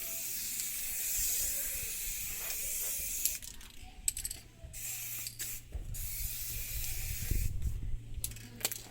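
Spray paint hisses onto a Renault Kangoo wheel in short, quiet bursts, each separated by brief pauses and accompanied by faint clicks from the can.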